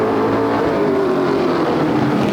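Vintage modified race cars racing at Flamboro Speedway off turn four, a dense continuous roar of several engines at full throttle, loud and unbroken.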